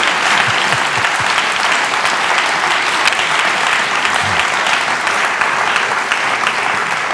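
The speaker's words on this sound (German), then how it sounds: "Das merken Sie jetzt am Applaus." Loud, dense applause from a studio audience at a German talk show, a continuous crowd of clapping hands holding steady throughout with no speech over it.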